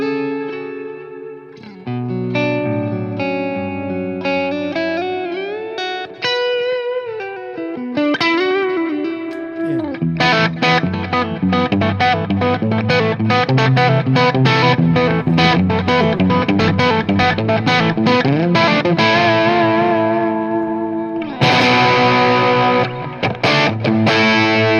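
Electric guitar played through a Keeley Electronics Super AT Mod Overdrive pedal, loud and driven, opening with sustained bent notes and then settling into dense, rhythmic chord strumming with a continuous overdriven tone and no talking.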